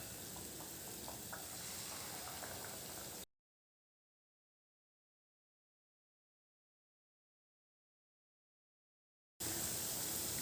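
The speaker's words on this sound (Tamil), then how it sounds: "இதை வந்து டைரெக்டாக எண்ணெயில் ஊற்றி பொரிக்கலாம்." Ragi appam batter ladled into hot oil for a sweet snack, frying with a dense, steady sizzle that cuts out to silence partway through and then returns just as loudly at the end.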